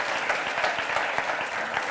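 A church congregation claps together in a dense, steady burst of applause during a Spanish-language sermon service, close and sustained with no voices standing out.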